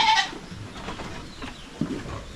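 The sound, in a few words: goats bleating on a farm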